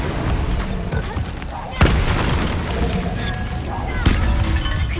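The Confringo fire spell in the Hogwarts Legacy video game sets off booming blasts, two sharp strong hits over ongoing rumbling combat noise, with voices heard throughout.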